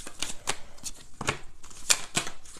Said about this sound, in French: je vais prendre ici 3 cartes pour les couples